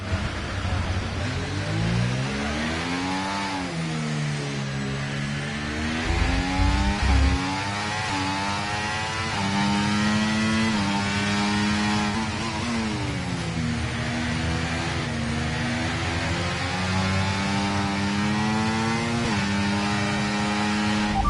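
An F1 car engine in the F1 24 racing game, a loud close whine that climbs in pitch and drops repeatedly as it shifts up through the gears on a warm-up lap, continuous throughout.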